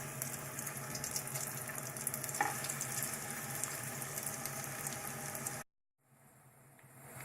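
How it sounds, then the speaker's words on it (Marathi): Vegetable cutlets sizzle steadily as they shallow-fry on a griddle over a gas flame, a dense crackling hiss that cuts off abruptly, then returns faintly. "आता मी एक एक याच्यामध्ये सोडून शॅलो फ्राय करून घेणार आहे"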